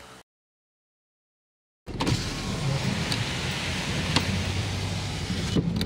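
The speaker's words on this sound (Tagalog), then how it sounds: "Grabe guys, ang lakas po ng ulan sa labas." Steady heavy rain drumming loudly outdoors in Metro Manila after a brief silence, a dense continuous wash with occasional sharper taps, no voices.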